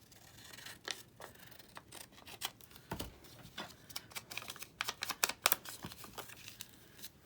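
Scissors snip through paper from a desktop calendar page in a series of short, close, quiet cuts, irregularly spaced and quickening toward the end, with no talking.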